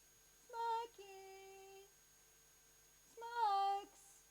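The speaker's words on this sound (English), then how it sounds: "My cat." A house cat meows twice indoors, a drawn-out call followed after a pause by a second, louder meow, clear against a quiet room.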